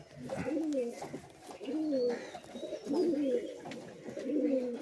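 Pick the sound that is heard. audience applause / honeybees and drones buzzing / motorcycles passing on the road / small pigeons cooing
small pigeons cooing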